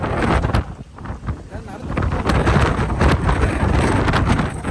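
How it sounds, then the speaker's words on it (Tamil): Strong wind on a mountain road between Theni and Munnar, roaring close in uneven gusts that buffet the microphone loudly throughout. "இங்கே எந்த சப்போர்ட்டும் இல்லாமல் நின்றோன்னா ஒரு ஆளை தள்ளுற அளவுக்கு நல்ல வேகமாக காற்றடிக்குது."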